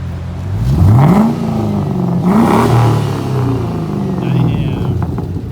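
A pink Nissan R32 Skyline four-door idles roughly and then revs twice in rising sweeps, close by, with voices talking over the engine.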